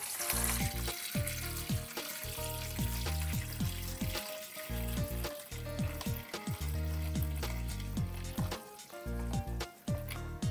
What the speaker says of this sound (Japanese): そうしましたらお湯を注ぎ入れていきます。